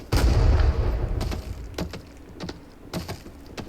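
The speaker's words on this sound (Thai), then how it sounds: "อ๋อ เสียงคนยิง" Gunfire in the Vietnam War video game Rising Storm 2: Vietnam, opening with a loud burst and followed by several sharp, scattered shots, some near and some more distant.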